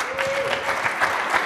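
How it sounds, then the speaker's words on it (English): Audience applause, a short burst of dense clapping from a crowd, steady and close, with a faint tone underneath. "Give him a round of applause."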